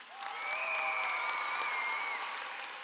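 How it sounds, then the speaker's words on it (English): A crowd applauds graduates at a high school commencement in a university arena, a sustained swell of clapping and cheering with whistles that builds quickly and then slowly fades. "let's give them a big round of applause"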